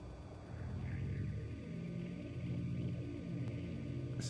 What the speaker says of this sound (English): Let's just rev up the engines here a little bit